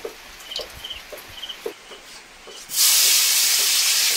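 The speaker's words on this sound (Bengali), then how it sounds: "কড়াইতে তেল দিয়ে দিলাম" Oil poured into a hot wok erupts into a loud, steady sizzle partway through, following quiet kitchen clatter and faint knocks.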